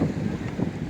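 Strong, fresh outdoor wind buffets the microphone on a walk into a small town, making a steady low rumbling roar that fills the whole second with no voices.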